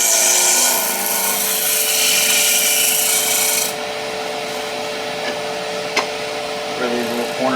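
A skew chisel shaves wood on a spinning lathe with a loud, continuous hiss that drops to a quieter cut partway through, over a steady motor whine, with a few faint knocks near the end.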